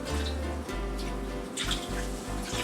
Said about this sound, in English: Then we have some more water. Just pour a little bit here and there.